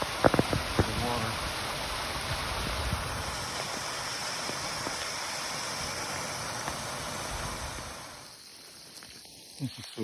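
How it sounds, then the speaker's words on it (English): A waterfall along the Foothills Trail pours with a steady broadband rushing hiss that holds for most of the stretch, then quiets and thins near the end as a few faint knocks come through. "here's the first waterfall I've seen."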